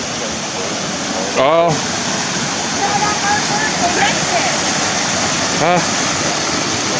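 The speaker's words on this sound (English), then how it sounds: "here we are, back at the creek, back at the river" Water flowing in a creek or river gives a steady, loud rushing wash throughout, with a couple of brief exclamations from a person and a dog's short vocal squeaks rising over it.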